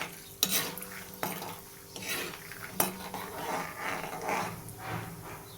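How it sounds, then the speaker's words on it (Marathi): Peanuts frying in oil while being stirred, soft continuous sizzle broken by several distinct scrapes and knocks of a spoon against the pan, close and fairly quiet. "चांगले शेंगदाणे फुलेपर्यंत परतून घ्यायचं त्याला तेलात"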